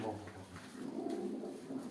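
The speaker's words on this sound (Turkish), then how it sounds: "Bu senin soylan güvercin" A pigeon from a village flock gives low, repeated coos at close range. A quiet voice is heard briefly underneath.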